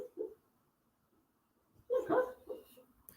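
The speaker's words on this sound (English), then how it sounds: "My dog barking in his sleep." A sleeping dog lets out a brief muffled woof, then after a pause a louder cluster of soft, stifled barks and yips, close by in a quiet room.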